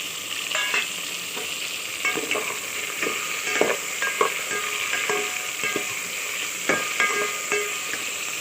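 Chopped eggplant sautéing in a pan for a Tamil herbal kuzhambu, with a steady sizzle and repeated clacks of a spatula stirring throughout, no talking.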